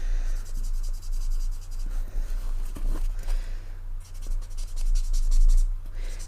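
A marker colours the back of a paper die cut brown: quick, rhythmic scratchy strokes close up, rising and falling in bursts over a steady low hum.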